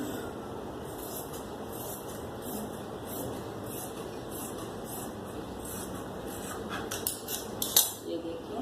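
Scissors cutting fabric for a shirt sleeve pattern, faint repeated snipping strokes in a quiet room, growing louder near the end.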